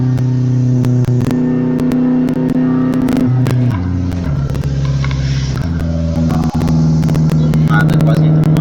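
A turbocharged 1.6 Chevette is pushed into a drift, its engine revving hard and loud, with pitch jumping between gear changes and sharp clicks and pops scattered throughout.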